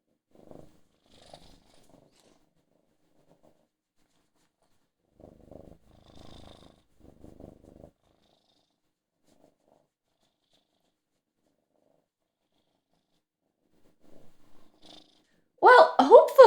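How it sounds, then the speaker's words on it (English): A contented cat on a table purrs in faint, intermittent low rumbling bursts separated by near silence, ending with a sudden louder burst of sound. "let me reward you with about 30 seconds of my very happy cat that I just had on my table right now"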